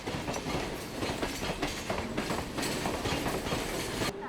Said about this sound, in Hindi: लोकल ट्रेनों की आवाजाही एक मधुर संगीत जैसा प्रतीत होता है।